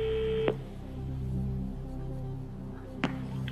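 A telephone tone plays on a game-show phone line, a steady held tone that stops abruptly, followed by a brief click-like burst, with a hum underneath and no talk.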